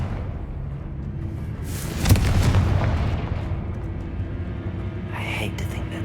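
A Confringo fire spell goes off in Hogwarts Legacy, a loud burst mid-clip over a steady rumbling game backdrop, followed by a rising whoosh near the end; a voice speaks nearby.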